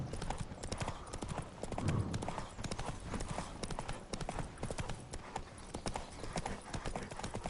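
Rapid hoofbeats of a galloping horse in The Witcher 3 pound steadily throughout, loud and close, with a brief low rumble partway through.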